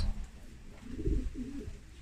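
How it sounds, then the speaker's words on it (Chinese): A pair of young pied pigeons coo in a loft, a couple of low throaty rolling calls heard close and quietly over faint background hum. "前两天一个歌友支援博哥的一对小花鸽啊，非常漂亮的小花鸽"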